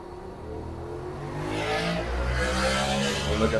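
650cc road racing motorcycles pass at the Tandragee 100 road race, a rising engine roar that swells and sweeps by at moderate distance, with no talk over it.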